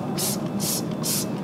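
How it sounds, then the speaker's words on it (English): Three short bursts of hissing spray, evenly spaced, from a trigger sprayer of Eagle One wheel and tire cleaner up close on a tire, over a steady low background. "now we're going to spray it on the Eagle One wheel and tire cleaner"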